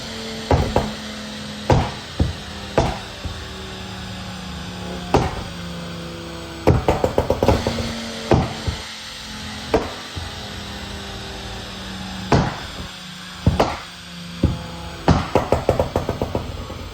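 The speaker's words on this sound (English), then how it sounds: "now I'm just loading it in and then we can have a bit of fun with the pop and bang." A Ford Focus ST225 with a stage 2 tune pops and bangs from its exhaust on a dyno: sharp, loud cracks, sometimes single and sometimes in quick clusters, over a steady mechanical hum.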